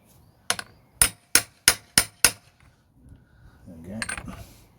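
A hammer knocks back the tang of a blade with six sharp metallic strikes in quick, even succession, close and ringing, followed by faint shuffling.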